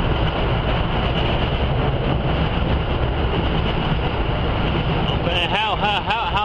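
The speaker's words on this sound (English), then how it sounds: "Let me let this train go by." A train passing close by, a loud, steady roar of rumbling wheels and rail noise that fills the whole stretch, with squealing, whining tones rising near the end.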